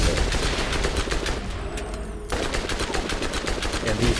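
Rapid, loud automatic gunfire from the Borderlands video game, aimed at General Knoxx in the Armory, runs in a dense continuous rattle with only a short near-silent pause before resuming.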